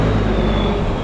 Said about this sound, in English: There's a Bangkok bus just leaving.